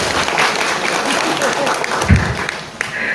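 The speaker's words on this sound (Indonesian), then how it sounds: "Bisa tepuk tangan dulu buat Bunda Susi." Audience applause at a communal Ramadan fast-breaking gathering at an Islamic boarding school, a steady wash of clapping from the crowd with a brief louder burst near the end and some talk mixed in.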